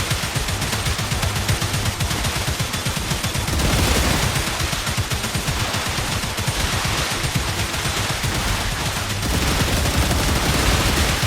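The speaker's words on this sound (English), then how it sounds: "I do think these guns have slowed down." Rapid gunfire from weapons in the video game StarRupture, loud and sustained with dense overlapping bursts throughout, no voices.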